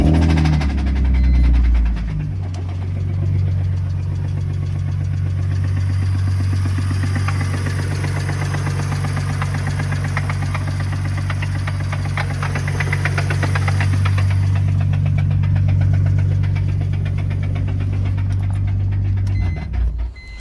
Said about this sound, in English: the rod knock was so severe that a rod was about to shoot through the motor